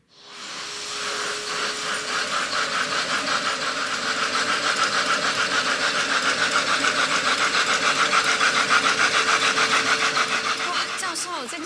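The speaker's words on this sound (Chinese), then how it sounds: "这个蒸汽机的声音听起来好像火车哦" An improved model steam engine running with a rapid, steady chuffing rhythm that builds from a start and holds, close and loud, no voices over it.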